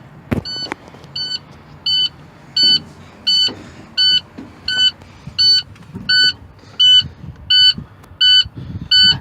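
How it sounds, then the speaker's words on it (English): A truck's low air pressure warning beeps during an air brake test with the secondary air system empty, in a steady repeating pattern, about one tone per second, loud and close, with faint cab noises underneath. "that beeping here is just low pressure because secondary has no air in it"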